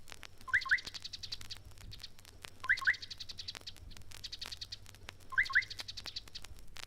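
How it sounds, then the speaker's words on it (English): Chattering little sunbird singing in East African dry thickets: three separate bursts of quick, high twittering chirps come at roughly even intervals over a faint, steady background. "is a chattering little sunbird."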